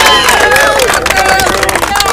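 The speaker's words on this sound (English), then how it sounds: "Give yourselves a round of applause." Young girls' 8U team after a championship ball game, clapping and cheering in a lively, close burst mixed with excited children's voices and babble.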